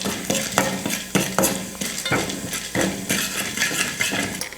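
Mustard seeds, urad dal and chana dal roast in hot oil in a pan, giving a steady crackle and sizzle broken by repeated clinks and scrapes of a metal spoon stirring, close and fairly loud, with no talking.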